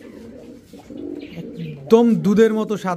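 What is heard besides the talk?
pigeons cooing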